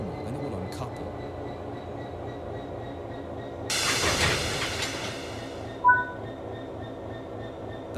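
A locomotive uncouples from the first wagon in Train Sim World 5, a steady rail hum with a loud hissing burst of released air lasting about a second, followed by a short sharp clank.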